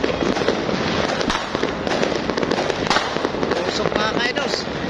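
A New Year's salubong celebration rings with fireworks and firecrackers bursting in dense, rapid crackling volleys, loud and continuous with sharp bangs layered over one another.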